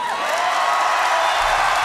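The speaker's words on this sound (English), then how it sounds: "round of applause for the drummer" An arena crowd at a 1996 concert in Cardiff cheers and applauds for the drummer, a dense, loud roar of cheering and whoops that holds steadily throughout.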